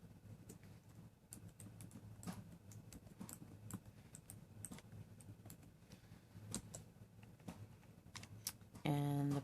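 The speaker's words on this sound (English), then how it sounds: "I'm gonna type in my password." Fingers tap out a password on a computer keyboard in a quick, uneven run of light clicks, close and quiet, ending with a brief louder burst of sound.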